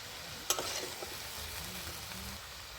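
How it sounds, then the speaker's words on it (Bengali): Mixed winter vegetables fry in a pan while a utensil stirs them, producing steady close sizzling with a sharp scrape near the start and softer scraping strokes after it. "নেড়ে চেড়ে দিচ্ছি"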